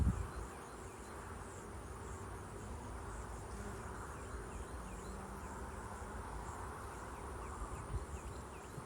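Honey bees buzz in a steady, dense drone around the hive frames in a pasture apiary, a continuous swarm hum with no speech.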